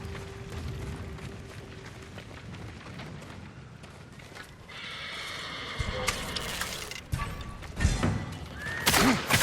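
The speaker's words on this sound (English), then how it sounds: "Let's get to the horses." Horses neigh and whinny at samurai stables in Ghost of Tsushima, with brief hoof and movement sounds and game ambience. The bursts grow louder and denser toward the end.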